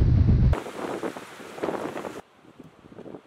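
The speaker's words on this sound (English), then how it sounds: "She's blowing up a storm." Strong storm wind on a North Atlantic island buffets the microphone in a steady, rough roar that cuts down abruptly near the end, leaving faint ambient rustle.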